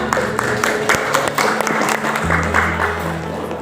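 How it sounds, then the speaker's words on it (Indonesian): Audience applause at a fiction-writing workshop in a girls' school, a steady run of clapping over a low sustained tone, with a brief dip partway through before the clapping carries on. "Tepuk tangan untuk kita semua."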